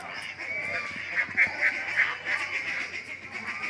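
A goose honks several times in quick succession, a bright repeated call, near its shelter beside a temple, with a soft outdoor murmur behind it.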